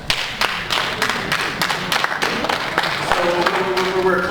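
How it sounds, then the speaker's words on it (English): Audience clapping in a crowd, with dense, uneven applause running throughout at a steady level and a voice speaking over it. "So we're clapping for you"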